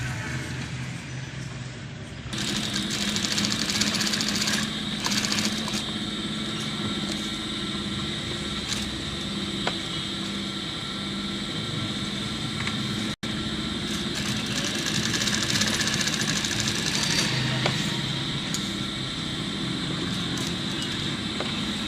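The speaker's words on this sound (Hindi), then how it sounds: "तो इसके ऊपर हम सिलाई लगाएंगे।" A sewing machine stitches through cloth layered over soft cardboard. After a short quiet start it runs as a steady, loud mechanical whir and hum for the rest of the clip, with no talking.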